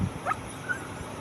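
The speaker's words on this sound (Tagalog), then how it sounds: "Nag-iingay yung aso" A dog gives a couple of brief, faint yelps over a steady low hum.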